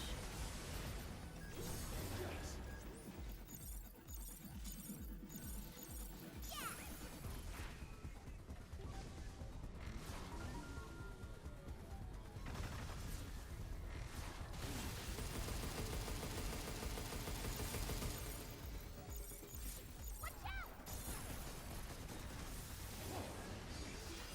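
Homing missiles in the video game Pragmata, a dense, loud barrage of rapid explosive bursts, whooshes and crashes continuing throughout, with game noise and no voice on top.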